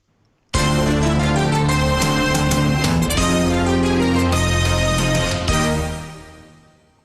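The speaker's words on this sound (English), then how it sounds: "There's another news sting here." A class act news sting jingle bursts in suddenly after a brief silence. The loud, full musical hit with layered tones holds for several seconds, then shifts and fades out with no talk.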